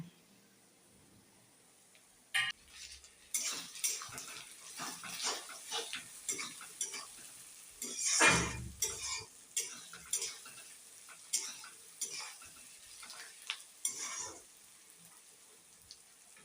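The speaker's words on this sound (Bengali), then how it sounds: "পেঁয়াজটা একটু ভাজা ভাজা হয়ে গেছে, এর মধ্যে আদা রসুন বাটাটা দিয়ে দেবো।" Fried onions with ginger-garlic paste being stirred in a pan while cooking a fish curry: scattered metallic scrapes and clinks of a utensil against the pan over a soft sizzle, close and fairly quiet, with no voices.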